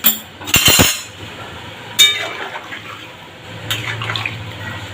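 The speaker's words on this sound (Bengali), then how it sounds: "আরও একটু জল আমি অ্যাড করলাম।" Water poured into a cooking pot, a short splashing pour with a clink, then a brief second pour and quieter bubbling and stirring sounds.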